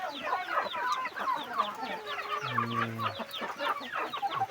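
Fighting roosters cluck and chatter in a busy flock, with one bird letting out a short, low drawn-out call midway, moderately close.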